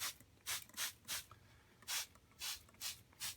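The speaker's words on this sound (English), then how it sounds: "See? I sprayed a lot." A handheld spray bottle mists damp soil in a lizard terrarium, giving about eight short, breathy hisses in an uneven rhythm, quiet and close with no talking.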